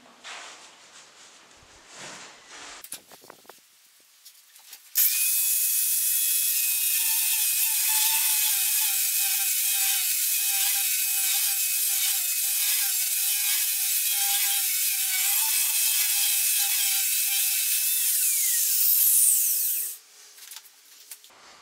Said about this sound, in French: On essaye la surfaçeuse à béton.